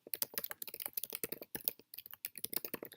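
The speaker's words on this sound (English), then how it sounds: "let's go ahead and type in Journal of American History" Rapid, steady typing on a computer keyboard, a journal title entered into a library database search box, producing dense, crisp, close key clicks with a brief pause midway.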